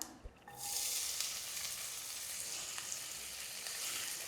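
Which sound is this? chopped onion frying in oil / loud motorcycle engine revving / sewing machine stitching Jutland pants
chopped onion frying in oil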